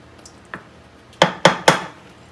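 Pasta e fagioli with yellow squash and hot pepper is stirred in a pot, giving one light tap and then three sharp, evenly spaced clanks of a utensil against the pot, close and clear with no talking.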